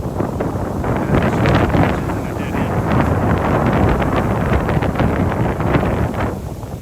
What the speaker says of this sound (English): on windy days it's really extra windy